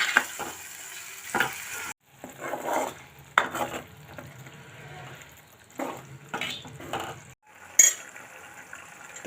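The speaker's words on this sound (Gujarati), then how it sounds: "ત્યાર પછી આ રીતે આપણે ધીમે ગેસ ઉપર તળવા દઈશું." Spices, tomato and garlic chutney fry on low gas, giving soft sizzling with intermittent scraping and stirring strokes against the pan, close and moderately quiet, with brief pauses between stirs.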